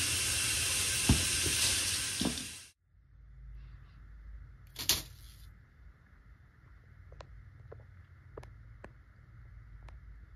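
Venison and seasoned vegetables sizzle loudly in a hot pan for the first few seconds, then the frying drops to a softer, steady hiss with scattered pops and light clinks.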